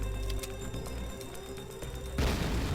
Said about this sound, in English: there are random explosions